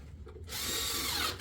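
A power drill drives a screw to fix a batten in place, a short quiet pause then a loud whirring run lasting about a second, close and alone.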